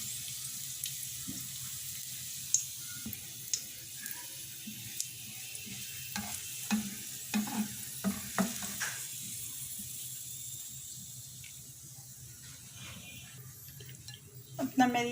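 Marinated chicken frying in oil, a low steady sizzle with scattered spatula taps and pops, fairly faint and close.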